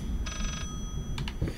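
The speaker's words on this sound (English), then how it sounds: "Okay, there's another phone going." A telephone rings in the horror video game Layers of Fear, a brief electronic trilling ring followed by a couple of shorter chirps, heard over a low, droning ambient rumble.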